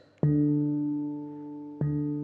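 Two resonant metallic tones struck on a D Kurd handpan with the side of a knuckle, about a second and a half apart, each ringing out clearly and slowly fading, close and fairly loud.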